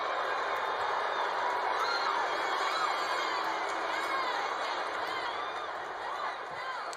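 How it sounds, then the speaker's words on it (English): Arena crowd at a WWE Raw wrestling show cheers and whoops for WWE champion Bobby Lashley, a steady, dense wall of crowd noise with scattered shouts throughout, no clear speech. "Can we please have an explosive round of applause for our WWE champion, the almighty Bobby Lashley."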